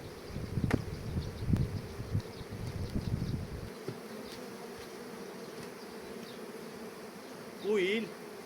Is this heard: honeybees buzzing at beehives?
yes